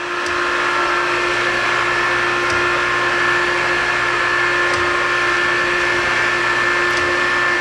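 An Okamoto 12 by 24 inch hydraulic surface grinder hums steadily, with automatic down feed running as the table traverses back and forth. Faint periodic clicks mark each reversal over a constant machine drone.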